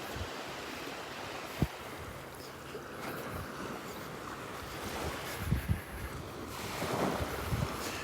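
Ocean surf and steady wind on Delnor-Wiggins beach, a continuous broad wash with gusts buffeting the microphone and a few soft thumps, swelling slightly toward the end, with no talking.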